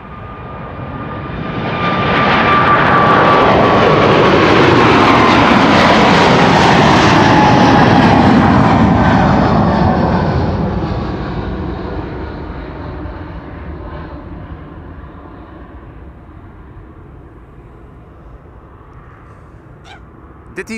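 A 17-year-old KLM airliner, registration PH-BVB, departs Amsterdam Schiphol with a loud, sustained jet engine roar that peaks and then slowly fades into the distance as the aircraft climbs away.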